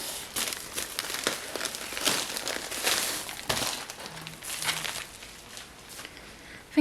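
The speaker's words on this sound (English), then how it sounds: "ASMR frantically opening sticker" Sticker packaging torn open in a hurry, a continuous close crinkling and crumpling of plastic wrappers with irregular rustles and rips throughout, no speech.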